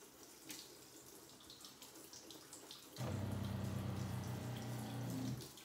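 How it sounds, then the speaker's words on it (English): Pump of a portable shampoo sink drawing water out of its tank in a home salon, starting abruptly as a steady, close mechanical hum with running water over a quieter watery background. "That's the noise of the pump actually sucking the water out of the tank"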